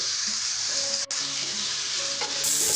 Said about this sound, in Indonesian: Goreng sampai ayam matang.